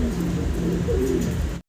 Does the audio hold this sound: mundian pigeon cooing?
yes